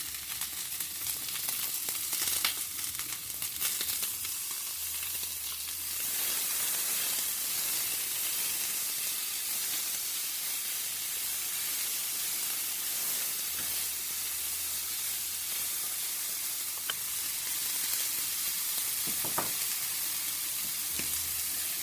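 Tofu and quinoa stir fry seasoned with organic tamari sizzles steadily in a hot pan, a continuous soft hiss with occasional scraping stirs, heard alone and close.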